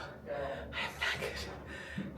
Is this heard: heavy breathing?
yes